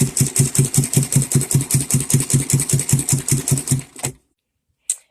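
A sewing machine runs loud and close while stitching a bag made from shirt cuffs, giving an even, rapid rhythmic thumping for about four seconds before stopping abruptly, followed by one brief click.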